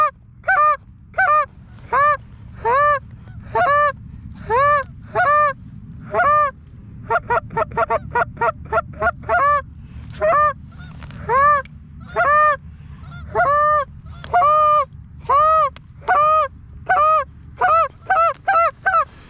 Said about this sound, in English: I knew I heard a goose.